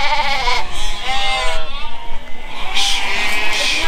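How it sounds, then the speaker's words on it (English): Woolly sheep bleat repeatedly in a pen during shearing work on a northern Scottish island in Orkney, with loud, close, overlapping calls that run throughout and some human voices mixed in. "Just want the four woolly sheep."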